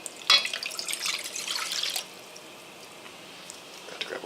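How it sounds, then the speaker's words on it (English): Hot water pours from close by into a pot holding agar, a brief hissing splash that lasts about two seconds and then gives way to quiet room tone with a faint drip. "we're also going to add to that 1 cup of hot water"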